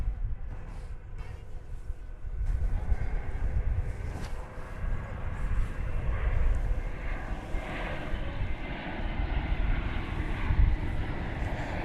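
An airliner arriving from Las Vegas rumbles past at DFW Airport, a broad roaring engine wash that swells and lingers for several seconds, heard outdoors with wind noise and no talk.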